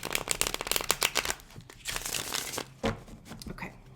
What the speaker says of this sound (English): I'm shuffling these cards way more,